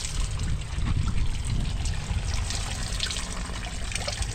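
Strong water flowing steadily while laundry is washed by hand, a continuous close rushing trickle with a full low rumble and no voices.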